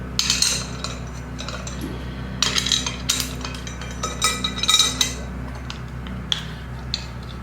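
Bolts are run in by hand on a car's crank trigger wheel, producing scattered light metallic clinks, ticks and tool taps, close and intermittent over a steady low background hum.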